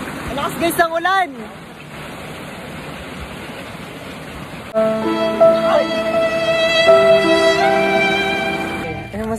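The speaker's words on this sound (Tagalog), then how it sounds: "Malakas guys ang ulan!" Heavy rain pours down in a steady, loud hiss, with people chattering and calling out over it at first, then a sustained musical tone rising over the downpour.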